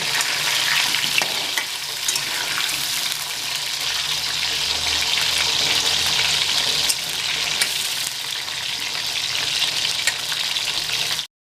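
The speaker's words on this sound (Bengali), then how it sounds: "আগে আমি আলুটা ভেজে নিচ্ছি।" Potatoes coated in salt and turmeric fry in a pan until browned, a loud continuous sizzle heard up close with light stirring and no voices.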